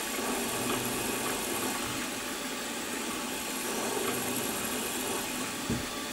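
A Stuart S50 model steam engine runs at about 1500 RPM, a steady dense whirring hum with fine rapid beats, close and constant throughout.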